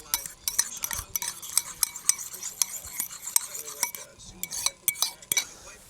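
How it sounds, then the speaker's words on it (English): A whisk beats an egg and Parmesan cheese mixture in a bowl inside a camper van. Quick, close metallic clinks and scrapes repeat in an uneven rhythm with no talking. "I'm just going to whisk that around."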